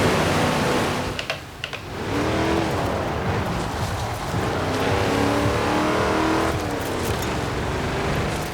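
A race car in a driving video game runs steadily with a continuous engine drone that shifts pitch through turns, loud and close throughout, with a brief dip near the start.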